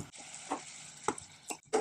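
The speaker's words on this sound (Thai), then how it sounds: "ในส่วนของหมูก็รวนให้สุกดี" Minced pork sizzling and being stir-fried in a hot pan, with scraping spatula strokes in short bursts over a steady frying hiss.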